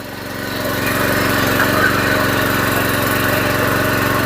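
A power tiller digs through garden soil in second gear, its engine running loud and steady close by with a rhythmic chugging throb and no talking.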